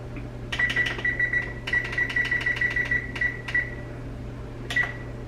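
An oven timer being set while baking cookies, a series of short electronic beeps in quick bursts followed by a final lone beep, clear and close over a steady low appliance hum.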